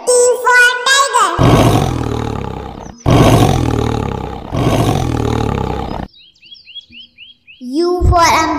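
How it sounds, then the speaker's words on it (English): A tiger roars loudly in a children's phonics song, three long deep roars in a row, preceded by sung or spoken voice and followed by brief bird-like chirps and more singing. "T for tiger."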